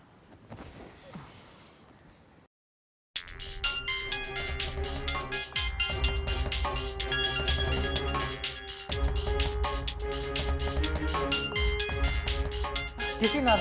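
A mobile phone ringtone for an incoming call plays loud and melodic for about ten seconds, following a short stretch of faint background sound and a brief silence.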